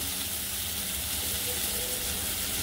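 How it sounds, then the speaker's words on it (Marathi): A Marathi phodni (spiced oil tempering) for tuvar dana amti sizzling in a pan, a dense, even hiss throughout, close and steady with no voices. "छान मस्त खमंगाची फोडणी आपलं झालेली आहे।"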